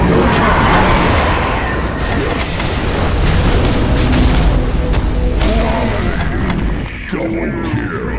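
A middle tower being destroyed in Dota 2: dense crashing booms and crumbling debris over busy battle noise, loud and continuous before easing slightly near the end.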